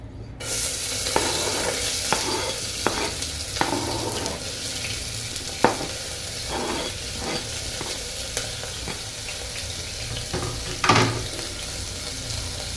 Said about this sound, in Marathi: पळी तेल टाकू त्यानंतर कांदा टाकू